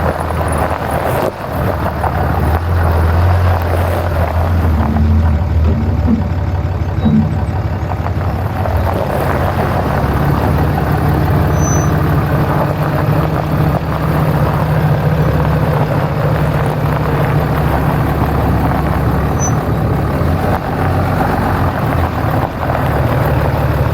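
A pickup truck rolls over an Olight flashlight, its engine rumbling loudly and steadily close by throughout, with no voices.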